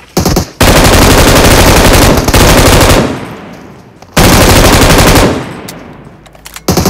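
Automatic gunfire in the mobile battle royale game PUBG Mobile, loud sustained bursts of rapid shots with a pause between two long volleys and shorter bursts at the end.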